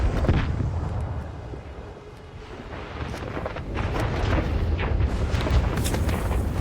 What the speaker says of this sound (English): Stop chucking grenades!